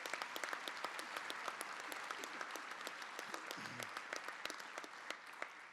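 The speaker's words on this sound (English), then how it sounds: "Let's give them all a round of applause." An audience at a county executive's inauguration applauds in a sustained round of crisp, dense clapping heard from some distance, fairly quiet overall, with a brief low murmur partway through.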